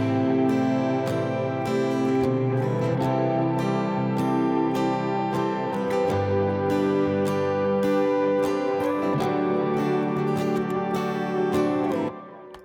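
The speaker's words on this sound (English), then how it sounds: "all the guitars together on the final chorus sounds like this" Several electric guitars strum together in a dense, sustained chord progression, full and loud throughout before cutting off at the end.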